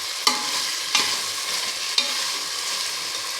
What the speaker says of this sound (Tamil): இஞ்சி பூண்டு நல்லா வணங்கினோடனே தக்காளி சேர்த்துக்கலாம் பச்சை மிளகாயும் சேர்த்துக்கலாம்